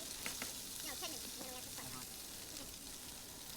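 Meatballs fry in a pan for a keto, paleo, gluten-free dish, giving a steady, dense sizzle with faint spatter crackles throughout, with no pauses.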